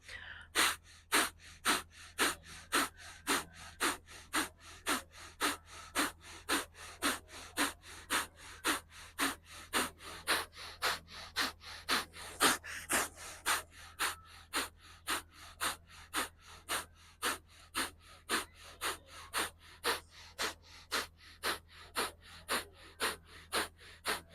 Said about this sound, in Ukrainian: Робимо капалабхаті 54 рази.